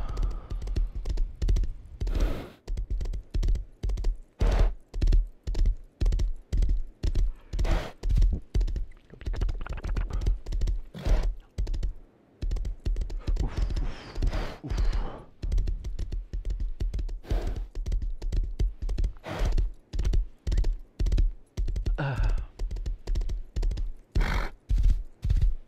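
Horse hooves clip-clop in a fast, steady rhythm with occasional neighs while riding a buckskin horse in the video game Rust, a loud, close, repetitive drumming.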